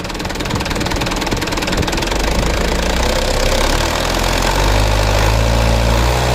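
A car engine that shudders and knocks is revved gently from low throttle up to about half throttle, a loud, close, continuous rumble that rises and fills out in the last seconds.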